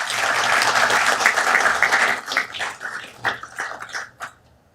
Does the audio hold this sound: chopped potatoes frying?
no